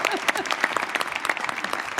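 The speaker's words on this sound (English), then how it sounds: "I think that's worth a round of applause" Lively audience applause at a National Space Council meeting honoring an astronaut who commanded a Discovery shuttle mission, brisk individual claps standing out within a dense, steady round of clapping.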